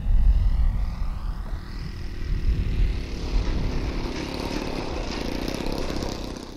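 A Seagull Challenger model airplane's engine drones loudly and steadily as it comes in to land, with a rough propeller buzz that eases slightly partway through.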